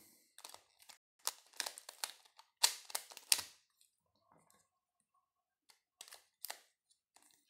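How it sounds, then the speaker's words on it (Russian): Quick bursts of dry plastic clicks and ratcheting snaps as a small pyramid-shaped twisty puzzle is turned, coming in irregular clusters with short pauses between. "складываю кубик Рубик пирамидку"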